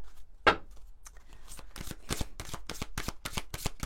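A deck of oracle cards is shuffled by hand, giving close, rapid, rhythmic riffling bursts that speed up into a steady flutter, with no voices.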